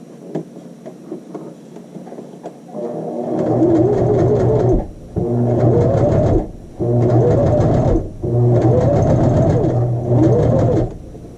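A sewing machine stitches a child's shirt sleeve, running in four loud, close bursts of rapid rhythmic whirring with short pauses between them.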